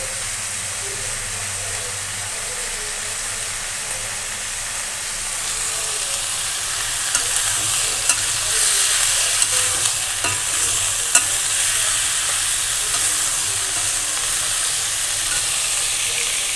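Rice fries and is stirred in a pan for a vegetable khichuri, giving a steady, moderately loud sizzle with scraping stirring strokes that grow busier and more pronounced partway through.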